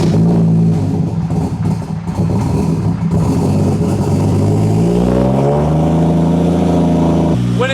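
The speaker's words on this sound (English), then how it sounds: "When it starts, it kind of sounds cool, kind of sounds like it has a cam. It's got that weird little sputter." A BMW 335i engine starts and idles with an uneven, lumpy sputter, loud and close, the revs rising and settling over several seconds while a person talks over it.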